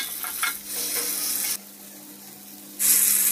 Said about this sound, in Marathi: आता थोडा वेळ थांबून सर्व कोळंबी परतून घ्यायची.